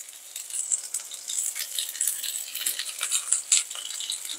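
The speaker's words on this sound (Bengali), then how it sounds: "আমি কেটে নিয়ে তারপরে রান্না শুরু করছি। সর্ষের তেল দিচ্ছি।" Mustard oil sizzles in a pan as okra chorchori cooking begins, giving a bright, crackly spatter of fine pops that rises and falls irregularly at moderate loudness.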